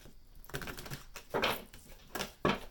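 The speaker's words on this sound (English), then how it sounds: "These are hard to shuffle." Stiff tarot cards are shuffled by hand in several quick riffling bursts, each a crisp, close papery flutter, with short pauses between them.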